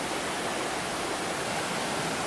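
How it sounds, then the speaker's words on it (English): A creek on Kauai flows along a beach toward the Kalalau Valley, a steady, even rush of water heard alone. "we cross the creek and head down the beach"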